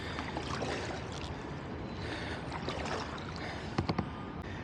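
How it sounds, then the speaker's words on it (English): Kayak paddling on the Bronx River in New York City, a steady wash of moving water with soft paddle splashes and drips, plus a few sharper knocks near the end; no voices. "And we're off paddling again."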